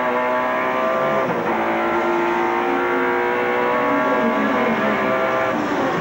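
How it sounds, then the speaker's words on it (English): A Ford Sierra touring car at Lakeside during the 1991 Australian Touring Car Championship, its engine at full throttle down the front straight: a loud, continuous, rising roar that swells steadily, with no voices over it. "Listen to the engine work, down to the right-hander. And now it's to the floor, all the way down the front straight."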